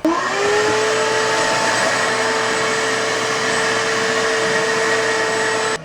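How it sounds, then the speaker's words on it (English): A vacuum cleaner motor spins up and then runs with a steady, loud, high whine throughout, close by and with no talking. "Let's let's vacuum that out."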